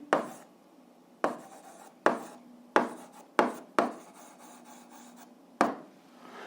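A pen or marker stroking across a writing surface while a maths solution is written out, heard as about seven separate scratchy strokes with pauses between them, fairly close and with no talk.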